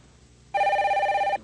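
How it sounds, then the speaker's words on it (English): A telephone rings once after a quiet moment, a bright, warbling electronic tone that holds steady for almost a second and then cuts off. "There's the phone."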